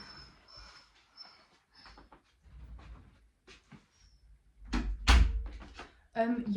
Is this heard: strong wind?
no